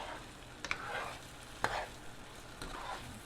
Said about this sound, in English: Stirring that up.